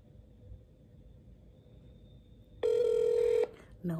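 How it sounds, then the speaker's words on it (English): An outgoing phone call rings on the line: a steady electronic ringback tone sounds once for under a second, then a second ring begins after a short pause, heard against faint background hum. "I'm about to call her off Money's phone and tell her"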